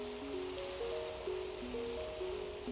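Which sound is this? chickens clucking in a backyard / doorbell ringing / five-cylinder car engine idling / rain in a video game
rain in a video game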